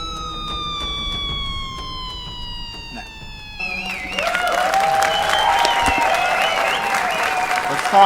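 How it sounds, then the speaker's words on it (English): A live esports crowd at a Halo Pro League event bursts into cheering and applause, a loud broad roar that swells after a few seconds of quieter tonal sound and holds to the end. "The crowd went wild for a second"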